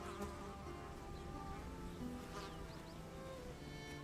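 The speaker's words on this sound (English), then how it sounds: "I'm hearing flies." Faint, continuous buzzing of flies in the dark outdoor setting of the video game Bellwright, a low insect drone under a steady ambient hum.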